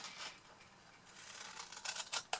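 Paper or card is cut across with scissors for a fold-flat cube box, a faint close snipping that sharpens into a few quick crisp cuts near the end.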